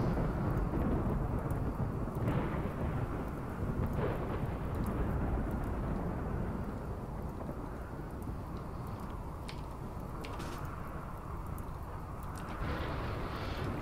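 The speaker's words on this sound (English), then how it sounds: "a lightning storm has struck up. It's a dry thunderstorm" Dry thunderstorm in the video game RimWorld, a continuous low rumbling roar of thunder that swells and eases, dense and fairly loud throughout, with no talking.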